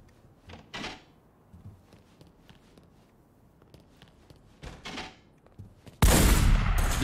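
Gunfire in The Godfather video game on Xbox 360: several scattered, muffled shots at moderate distance, then a sudden loud burst of noise at the end.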